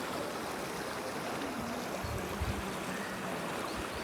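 Snowmelt water in a stream in Betaab Valley, Kashmir rushes in a constant broad hiss and burble, steady and fairly close, with no voices over it.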